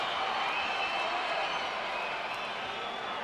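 A large arena crowd at a boxing event roars for Oscar De La Hoya, a dense, continuous wash of cheering that holds at an even level throughout with no breaks.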